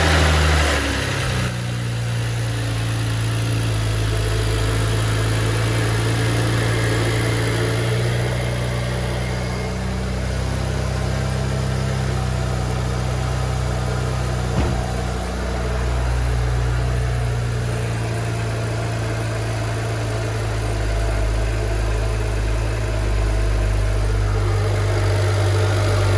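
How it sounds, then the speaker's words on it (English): A car engine idles steadily after an Evolution Racewerks competition series oil cooler install, a loud, close, even low rumble with a constant hum that runs unbroken for the whole stretch, with no talking. "we're leaving the car running so that it will flip the thermostat and start circulating this"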